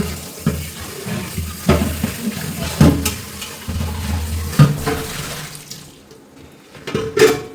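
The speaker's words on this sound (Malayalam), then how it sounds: "ഇതാ കഞ്ഞിക്കലവും കഴുകി, കഞ്ഞിക്കലത്തിൻ്റെ മറ്റേ കലവും കഴുകി." Tap water runs into a kitchen sink while pots used for rice gruel are washed, with irregular splashes and metal clanks from the pots knocking together. Close by, moderately loud, with brief quieter pauses.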